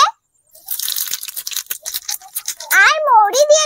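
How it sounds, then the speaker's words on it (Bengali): Cumin and fennel seeds frying in hot oil in a pan for a bitter gourd and onion dish, giving a close, steady crackling sizzle that runs throughout while someone talks over it. "এখন আমি নাড়িয়ে চাড়িয়ে জিরে আর মৌরিটাকে একটু ভেজে নেব।"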